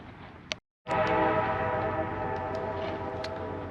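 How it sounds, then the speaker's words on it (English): A loud, sustained diesel locomotive horn on the Durango and Silverton train blares with steady harmonic tones, cutting in after a brief click and silence and holding for several seconds. "Well, it's got a loud horn. I just heard a horn."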